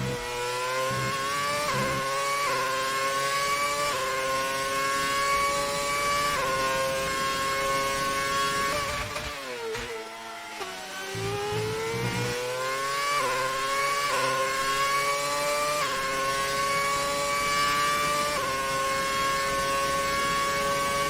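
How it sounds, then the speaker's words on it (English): A classic Ferrari Formula One car from the F1 2019 video game screams at high revs for the whole stretch, its engine note climbing and falling through gear changes with a brief dip around midway, loud and without commentary. "Definitely love the sound of this Ferrari."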